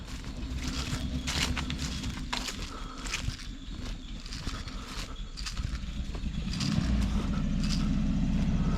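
A 1979 Chevrolet Malibu engine starts up after sitting for 20 years, running roughly with an irregular low rumble and ticking, growing louder and fuller near the end.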